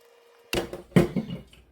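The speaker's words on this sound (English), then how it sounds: "Well, we are going to pour this right onto our ribs." Peanut sauce poured onto smoked short ribs, giving two short wet splashing bursts about half a second apart after a quiet start, close and fairly soft.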